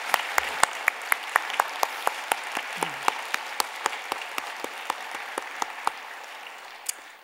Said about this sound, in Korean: 우리 모든 봉사자들을 위해서 한번 또 박수 한번 해보겠습니다.